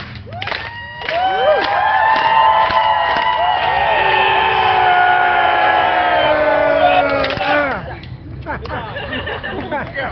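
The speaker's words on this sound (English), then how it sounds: "you're rallying up, you're yelling, you're cheering and cheering on the clap" A crowd at a rally against SB4 in Denton yells and cheers in a practice run, with loud sustained group shouting swelling up, holding for several seconds, then tapering off into scattered voices.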